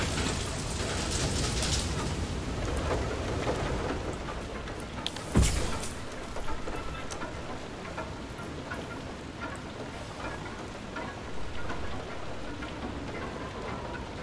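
Storm rain in FAR: Lone Sails, a constant dense hiss of rainfall with occasional creaks and knocks from machinery and one sharp crack or thunder-like burst midway.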